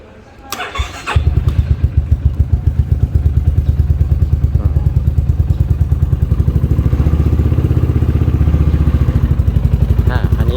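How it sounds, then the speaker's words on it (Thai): A 2019 Yamaha XMAX 300 scooter with an aftermarket exhaust cranks and fires up, then settles into a steady, close, deep and even idle throbbing for about ten seconds, with no talking. "เดี๋ยวมาสตาร์ทฟังเสียงของเครื่องยนต์ไปพร้อมกัน"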